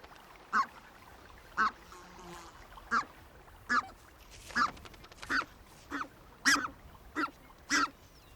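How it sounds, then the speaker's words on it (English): Red-breasted geese, the smallest geese of Europe and Asia, honk at their tundra nesting grounds in Russia's harsh north, about ten sharp separate calls spaced roughly a second apart, fairly near and clear over a quiet background. "The red-breasted geese are obvious targets."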